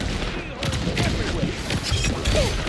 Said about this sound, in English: Someone's sniping the hell out of me.